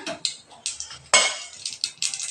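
Mustard seeds go into a pan of hot coconut oil. Brief clinks and small crackles are heard close up, with a few sharp taps of a spoon against the pan.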